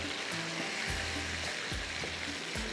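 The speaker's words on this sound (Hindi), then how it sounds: "इसको आपने फ्राई पहले करना है, अच्छी तरह से इसका कलर आ जाएगा" Chicken frying in a pan, a dense continuous sizzle of hot oil, loud and steady throughout, with faint music underneath and no talk.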